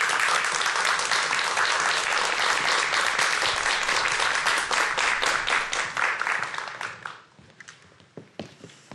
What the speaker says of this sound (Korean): 오늘 강연을 해주실 한창수 교수님 박수로 모시도록 하겠습니다